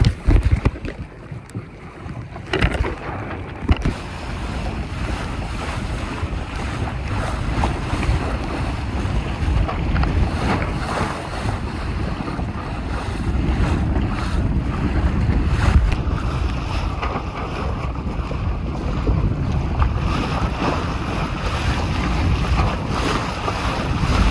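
A sailboat runs downwind in strong wind on a reservoir, with loud buffeting wind across the microphone and water washing along the hull, continuous and close, with no talk.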